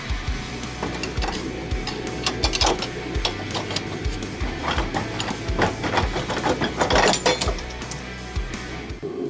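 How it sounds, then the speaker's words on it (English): A space heater runs in a cold garage in January, giving a steady low mechanical hum overlaid with irregular ticking and rattling clicks, moderately quiet and close, with no talking. "So I did have to turn the heater on."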